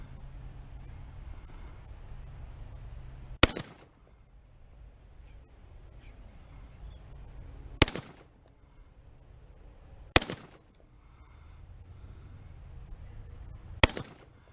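Four sharp, loud rifle shots from an AR-15 build at an outdoor shooting range, fired one at a time a few seconds apart, each with a brief echo, over a faint windy background.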